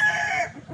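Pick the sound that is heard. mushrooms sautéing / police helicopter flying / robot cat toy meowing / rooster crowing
rooster crowing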